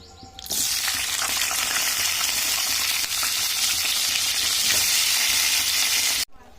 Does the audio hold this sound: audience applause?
no